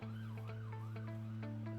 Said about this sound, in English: Please ignore the sirens in the background.